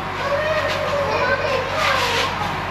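Children play and make noise indoors in a home, lively young voices chattering and calling out continuously and fairly loud.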